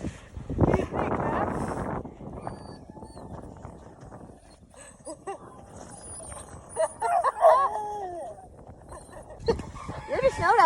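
A dog barking outdoors in deep snow during a blizzard, with a few loud, close yips and barks scattered among excited talking and whooping from several people.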